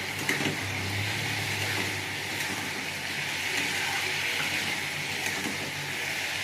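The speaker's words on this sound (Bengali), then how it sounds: "আমি ভালো করে একটু ধুঁদুলটা তেলে নিয়ে নিয়েছি। এবার আমি নিম পাতা দেবো। নেড়ে নেবো।" Sponge gourd frying in oil with neem leaves as it is stirred, a steady close hiss and crackle of sizzling oil throughout, with no talk.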